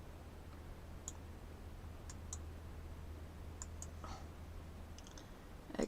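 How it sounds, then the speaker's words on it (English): Typing on a computer keyboard, quiet scattered key clicks over a faint steady hum, no talking. "So just take a second for me to type this in."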